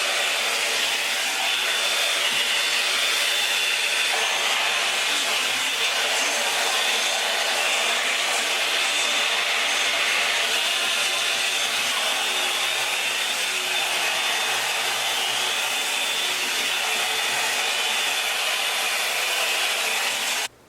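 Handheld blow dryer running steadily on hair during an at-home 90s blowout with straight clip-in extensions, a loud continuous airy whoosh close by that holds unbroken for about twenty seconds, with no talking.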